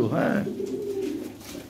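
A Lahore pigeon gives one low, throaty coo close by, the phrase rising then settling into a drawn-out hum, with a man's brief word at the start.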